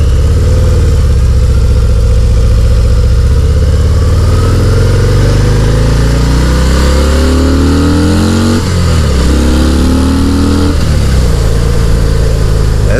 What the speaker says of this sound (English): with it being a stock exhaust, it's got some grunt to it.